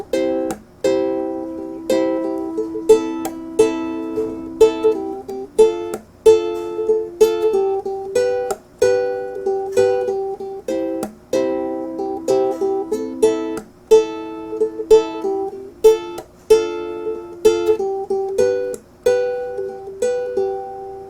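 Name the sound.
ukulele blocking strum pattern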